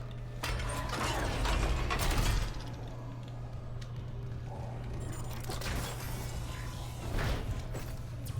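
Elevator machinery grinds and clanks steadily in the Dead Space Remake, a constant low mechanical hum with ratcheting, gear-like rattles throughout and a few louder surges.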